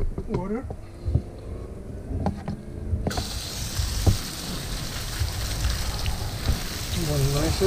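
Water poured over compost bedding in a 55-gallon rain barrel worm bin, a broad steady splashing rush starting abruptly partway through and continuing loud to the end, with a voice speaking before it.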